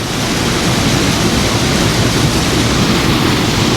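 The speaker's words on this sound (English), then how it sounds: "Every pool's got a waterfall" A waterfall pours into a plunge pool in Glencoe, giving a steady, loud, broadband roar that stays constant for the whole stretch with no voices.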